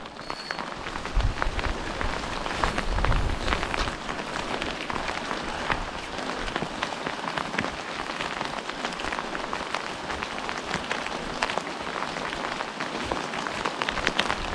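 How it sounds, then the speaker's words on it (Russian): Heavy rain pours steadily onto surfaces outdoors on a river in Mokhsha, Mordovia, a dense continuous patter with no voices, loud and close. "Дождичек самый сильный за сегодня."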